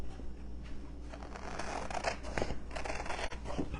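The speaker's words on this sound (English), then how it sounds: "Let me go ahead and cut this other stencil off." Scissors snip through a paper stencil for a craft board kit, a few soft, close cuts and rustles over a steady low background hum.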